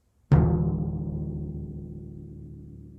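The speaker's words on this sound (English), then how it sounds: "So the drum you see here is a timpano." A single resonant timpano stroke booms close by, with a sharp attack followed by a long, low ringing decay, heard alone.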